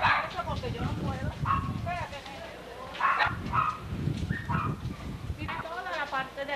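Dogs bark repeatedly in Puerto Rico after Hurricane Hugo in 1989, loud nearby barks under and between a person talking.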